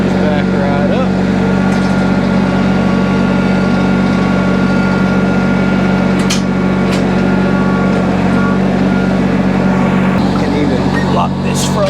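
A tractor idling steadily while backing up to equipment fitted with a quick hitch, a loud constant engine drone with a low hum and occasional clanks over the running motor.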